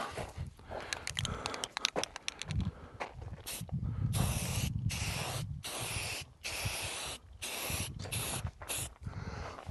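Aerosol spray paint hissing onto bolts in bursts, starting with a rattle of quick taps, then several sustained broadband sprays of a few seconds each separated by short pauses, close and fairly loud, with no talking.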